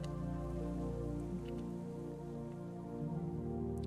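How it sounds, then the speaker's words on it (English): Rain falls steadily in the medieval colony-building game Going Medieval, pattering over an unroofed area, a soft continuous wash of drops layered over sustained tonal in-game music. "So this is still being rained on, unfortunately."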